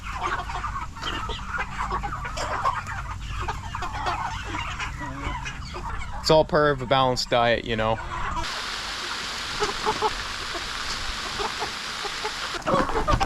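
Hungry chickens, meat birds, cluck and squawk in short repeated bursts, nearby, while a person talks over them and water trickles in the background.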